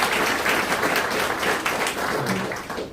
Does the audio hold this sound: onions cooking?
no